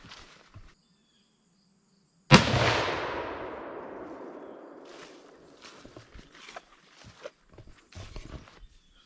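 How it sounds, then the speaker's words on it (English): A single loud rifle shot rings out while a Vortex scope is sighted in for deer season, a sharp crack with a long decaying echo across open ground, followed by faint rustling and footsteps. "Shoot for a third time."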